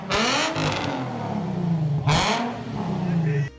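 A Nissan 350Z engine revving close by in two strong pulls, each rising then settling back to a steady drone, with a voice faintly underneath.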